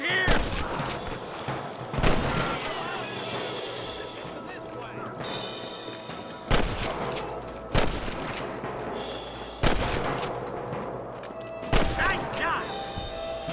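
Gunfire from a Red Dead Redemption shootout, a Western video game: sharp, loud shots crack out in bursts every second or two over a steady background bed, with voices speaking between them.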